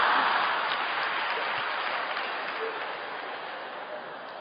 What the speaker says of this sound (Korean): 박수 치지 마세요, 여러분.